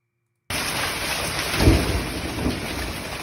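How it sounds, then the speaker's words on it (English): Thunder cracks and rumbles through steady heavy rain during a tornado-warned thunderstorm, the rumble swelling midway over a constant wash of rainfall. "You hear the crack of thunder?"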